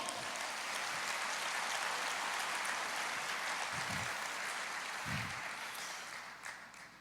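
A church congregation applauds at a worship service, a dense, steady wash of clapping filling the space for several seconds before tapering off, with a couple of low thumps partway through.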